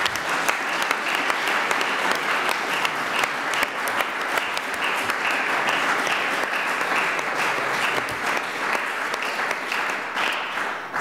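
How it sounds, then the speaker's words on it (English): An audience at a green commission public meeting applauds its speakers, a steady, full round of clapping from many hands holding at an even level throughout, with no talk over it. "Can I just ask you to give them another round of applause?"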